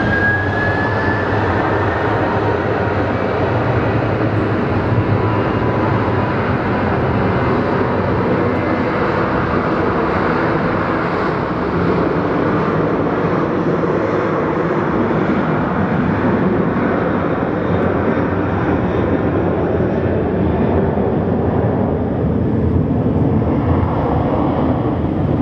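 A passenger airliner roars past at Sky Harbor airport in the rain, a loud, steady broadband engine rush that holds for the whole stretch with a faint rising whine at the start, no talking over it.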